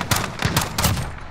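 Pistol shots fired from a distance in Call of Duty Warzone, a quick series of four or five sharp cracks in rapid succession, fairly loud with no talking over them.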